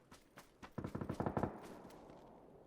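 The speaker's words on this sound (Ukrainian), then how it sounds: "я чув стріляла МКшка" A rapid burst of marksman rifle gunfire in PUBG, about eight sharp shots in quick succession, preceded by a few scattered pops, then fading into quiet background noise.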